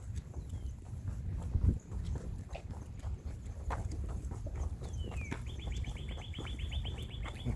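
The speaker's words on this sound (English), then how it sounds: "birds are out" Birds call outdoors along a walking path on a rainy day, with scattered chirps and then a quick run of repeated high notes toward the end, heard over a low, steady outdoor rumble.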